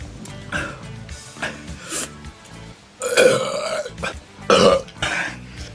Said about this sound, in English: People that love burps are gonna love this video.